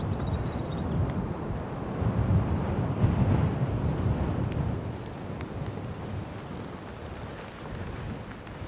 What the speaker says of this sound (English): it's also starting to rain again